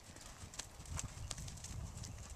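Horse trotting under saddle during a training-level riding lesson, hooves clip-clopping in a steady quick rhythm over a low background rumble, fairly faint.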